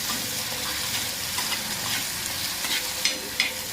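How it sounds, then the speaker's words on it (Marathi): Chopped tomato frying in oil with onions for a Maharashtrian egg masala, a steady close sizzle with occasional stirring scrapes and small pops. "याला पण आपल्याला चांगला असं तेल सुटेपर्यंत आपल्याला याला फ्राय करून घ्यायचं आहे"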